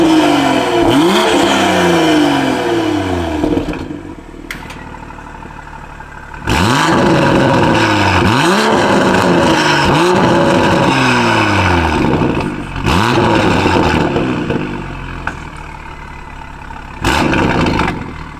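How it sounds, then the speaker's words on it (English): A 2021 Toyota A91 Supra with a downpipe exhaust in comfort mode revs hard in repeated loud bursts, each climbing and falling back between brief quieter idle gaps, with no talk over it. "I'm gonna get you some clips of how it sounds with the downpipe and the whole setup on comfort"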